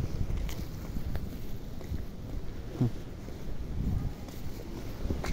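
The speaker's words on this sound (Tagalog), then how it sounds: "Sobrang lakas ng hangin." Strong wind buffets the microphone in a constant low rumble, gusting unevenly throughout with no voices.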